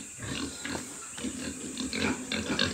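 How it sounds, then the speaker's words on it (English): Brown piglets and pigs grunting in farm pig pens, a steady close chorus of overlapping snorts and oinks with no talking. "Here's a batch of the brown piglets."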